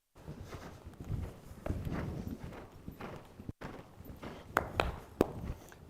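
Horse hooves walking on a schooling surface under a show-jumping rider, steady clip-clop footfalls at a relaxed walk, close and moderately quiet, with a couple of sharper hoof strikes near the end.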